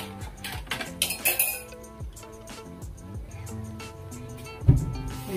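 Plates and dishes clinking as they are washed by hand, with scattered close knocks and bright clinks, a busier cluster early on and a single sharper knock near the end, over a faint steady hum.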